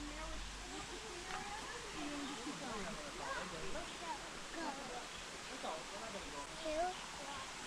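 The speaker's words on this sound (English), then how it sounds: "This is supposed to be the hidden waterfall area." Water rushes steadily at a hidden waterfall in the El Yunque tropical rainforest, a constant soft hiss heard from some distance, with faint voices of people nearby.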